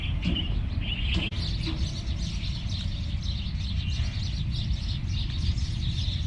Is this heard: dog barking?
no